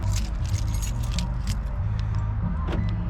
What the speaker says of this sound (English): let me make sure I lock the car